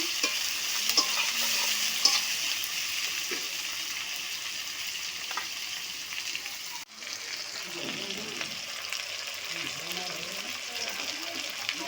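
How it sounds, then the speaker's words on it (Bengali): Onions and chopped tomatoes frying in a pan while being stirred, a continuous bright sizzle with intermittent scraping of the spoon, and someone talking over it in the second half. "একটু ভালো করে নেড়ে ছেড়ে নেব। পেঁয়াজটা লাল লাল করে ভেজে নেব।"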